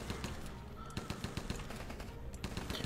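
Rapid bursts of machine-gun fire in a Rambo video game rattle in quick succession, steady and fairly loud throughout with no talking.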